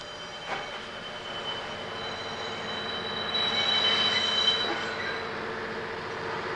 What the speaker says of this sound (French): Et la rame se mit en marche.